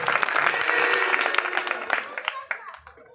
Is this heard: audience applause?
yes